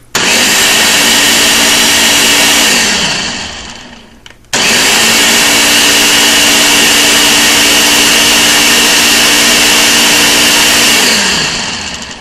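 Ninja blender pulsing cream into butter, a loud motor roar in two long bursts, each winding down before a short pause, with no talk.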